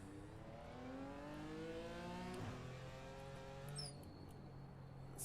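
A BMW M4 GT4 race car engine in the iRacing sim revs hard through short gears, rising whines climbing steadily then dropping at each shift, moderately loud and continuous with no talk.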